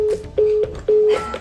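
Telephone dialing tones from a phone, with four short steady beeps at an uneven rhythm, loud and close, with faint background noise between them.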